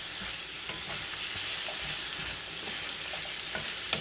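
Halved, rinsed baby carrots hit a hot frying pan and sizzle with a steady, bright crackling hiss, dotted with soft stirring clicks and pops, close and uninterrupted.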